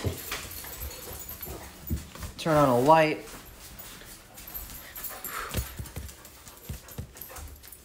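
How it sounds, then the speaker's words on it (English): Several dogs in a home whimper, yip and pant close by, with one brief rising whine standing out, while people talk and greet them throughout. "We have all the dogs."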